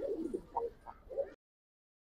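Pet pigeons coo close by indoors, several soft throaty burbles in the first second and a half, then silence before a sharp noise at the very end.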